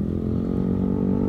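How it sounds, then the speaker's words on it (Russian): A motorcycle passes close by at an outdoor used-car market, its loud, steady, buzzing engine drone filling the short moment. "Как надоели мне эти мотоциклисты уже."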